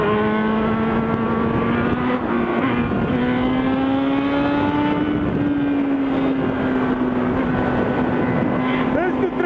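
Honda Hornet motorcycle engine running loud and steady in city traffic, a continuous droning tone that rises and dips slightly as it holds speed, with other vehicles around.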